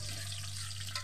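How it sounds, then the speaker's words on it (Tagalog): Chopped onion is dropped into a hot pan with garlic and fries with a dense, even sizzle, heard close over a low steady hum, with no one talking. "Pwede po na po ibuhos yung sibuyas"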